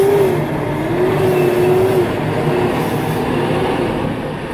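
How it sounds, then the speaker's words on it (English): A loud, steady rumble of a train rolling close by at a railroad crossing, with a faint tonal whine drifting over the heavy low roar and no voices. "the train is really close to the crossing right now"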